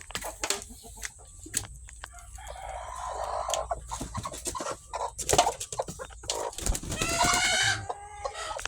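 A hen settling in a nest before laying, giving soft, irregular clucks and a few louder, drawn-out calls, fairly close and alone without speech.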